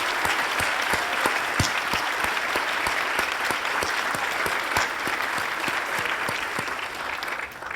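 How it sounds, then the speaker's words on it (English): Sustained applause for faculty at a school graduation ceremony, many hands clapping steadily in a large room, with a slight fade near the close. "can we give a big round of applause to all of our faculty and"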